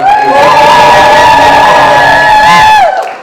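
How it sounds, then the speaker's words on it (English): A loud crowd at an arts event cheering and whooping continuously, with a dense roar of many voices filling the space throughout. "Can we please give a round of applause to Alcohol?"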